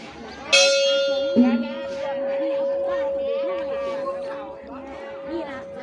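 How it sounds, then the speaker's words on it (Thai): A Thai temple bell strikes with a bright clang, then again a moment later, leaving a long sustained ringing tone beneath steady crowd chatter and talking at a Bun Khao Sak festival. "เนี่ยเสียงระฆังดังขึ้นก็แสดงว่า"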